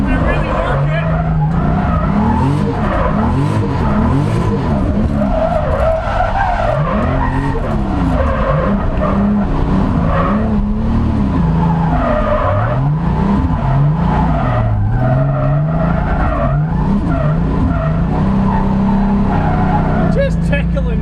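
A BMW E36 with a swapped 2JZ-GE engine drifts on a wet surface. Its loud, continuous engine roar rises and falls in repeated revving sweeps over a steady hiss of skidding tires.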